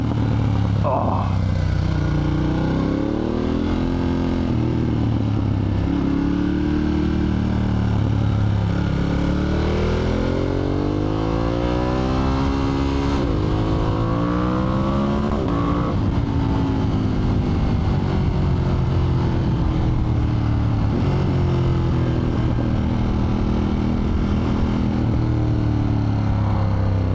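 Alpinestars-booted rider's motorcycle engine revs and rises through gears close up, rowdy and loud throughout, with harmonic sweeps climbing and falling as the bike accelerates on the road.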